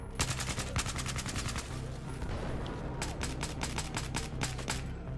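Rapid automatic fire from an APC-9 submachine gun in Battlefield 6, in two sustained bursts of close, sharp shots separated by a short pause, with faint game ambience between them.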